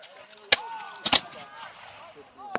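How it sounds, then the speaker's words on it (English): Muskets fire in a battle reenactment volley: one sharp, loud report, then a ragged cluster of shots a half-second later, and a fainter crack at the end, with distant shouting and crowd noise between. "Fire one more volley!"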